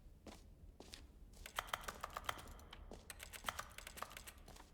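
Keyboard clicking from the video game The Stanley Parable plays as quick, irregular bursts of crisp keystrokes, faint at first and then denser and louder, with no voices.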